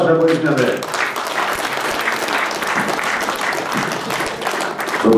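A concert audience applauds an introduced singer-songwriter at a festive evening, steady dense clapping that fills the room at a loud, even level, with some talk mixed in at the start.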